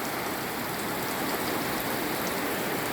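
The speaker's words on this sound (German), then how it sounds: "der Regen wird etwas schwächer, dann hört ihr mich besser." Heavy tropical rain pours down in the rainforest, a dense, steady hiss of drops hammering surfaces without letup, loud and close with no voices.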